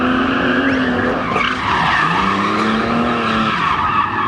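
A race car's engine roars steadily while its tires squeal and skid through a long drift on a track, loud and close throughout.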